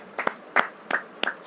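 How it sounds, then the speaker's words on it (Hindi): Congregation at a Hindi church Bible study clapping for God in four evenly spaced, loud bursts, with quiet gaps between them and no talk. "आइए परमेश्वर को जोरदार ताली का भेंट चढ़ाएंगे,"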